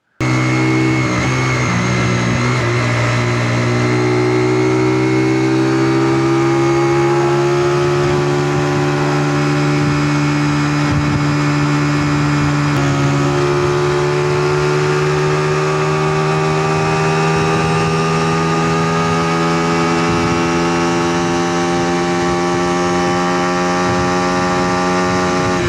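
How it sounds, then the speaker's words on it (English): A Honda Dream50 motorcycle fitted with an 18 mm carburetor runs steadily and loudly on a test ride, its engine droning close and continuous with a slight rise and fall in pitch and no talk. "do a little test drive with an 18 millimeter carburetor"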